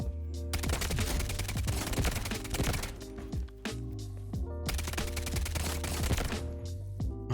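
Rapid bursts of automatic gunfire from a weapon in the Delta Force video game, two long sustained strings of loud shots separated by a brief pause, dense and punchy throughout.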